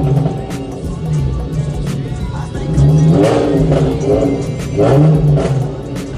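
A very loud car engine revs hard at a Mardi Gras parade, surging in repeated throaty pulses over a constant crowd and street din, close and dominant.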